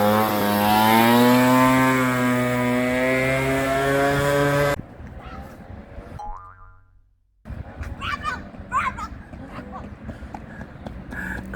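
A Yamaha Aerox YQ50 two-stroke scooter with a replaced cylinder and piston on its first ride, engine revving loud and buzzing close up, then dropping away to quieter rough running and short revs.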